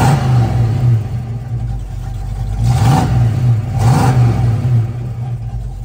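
A 1967 Ford Mustang, believed an original C-code car, idles with a steady low rumble and is revved twice in quick succession, each rev swelling briefly, then it settles back to a close, even idle with no talk.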